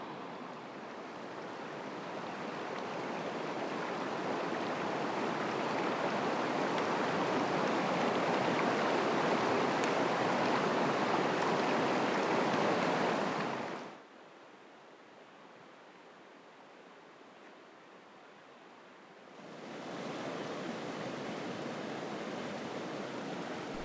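Bowman Creek flows on a wilderness trail, a steady broadband rush of moving water that holds for a long stretch, drops off sharply to a quieter hush, then swells back up, with no voices.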